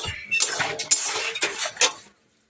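Wheat flour is roasted in a pan while a spatula scrapes and taps against the metal in four or five quick, close strokes, then the sound stops abruptly.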